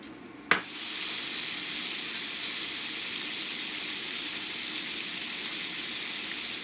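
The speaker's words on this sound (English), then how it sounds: "I'm gonna set them aside while I throw a little bit of fat in my pan so I can sear these up." Pats of butter hit a skillet on medium heat with a sudden sharp hiss, then a steady loud sizzle and crackle of melting fat carries on without pause.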